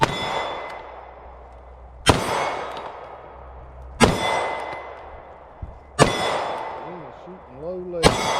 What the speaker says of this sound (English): we're going to be shooting at these 2 different white targets